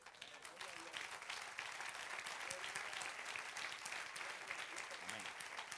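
A church congregation applauds during a sermon, steady, fairly distant clapping from many people, with faint voices murmuring underneath.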